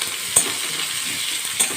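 Onions sizzle steadily in oil in a frying pan, a close, even hiss broken by two brief sharp pops.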